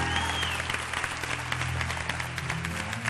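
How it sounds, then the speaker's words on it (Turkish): Applause from a television studio audience fills a dating-show set in a continuous, fairly close burst of clapping with no talking over it. "o zaman seni alkışlayalım"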